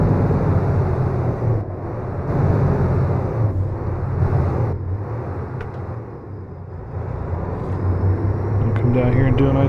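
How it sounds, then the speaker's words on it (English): A Kenworth T680 with a Cummins engine, driven in American Truck Simulator, works its engine brake in a long configuration, a loud, steady low diesel rumble with rhythmic pulsing that keeps going throughout, while a person talks over it. "So here's the engine brake."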